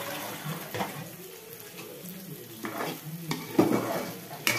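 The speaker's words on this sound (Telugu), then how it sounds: "ఇప్పుడు కలుపుకుందాము." Cucumber chutney is stirred in a pan with a spoon, soft scraping strokes over a low sizzle, fairly quiet and close, with no talking.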